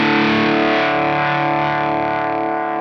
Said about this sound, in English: So here is what a basic setting with the sine wave sounds like.